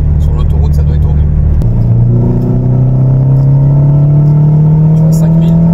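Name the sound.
Renault Clio 2 RS 172 engine and twin-silencer exhaust droning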